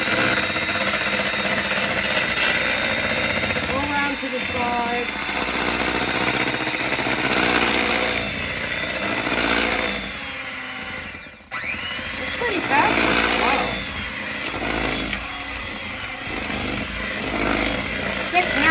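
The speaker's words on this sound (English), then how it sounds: "Sometimes I like to use the hand mixer." An electric hand mixer whirs steadily through the whole stretch, mixing chocolate cake batter, while a person talks over the motor.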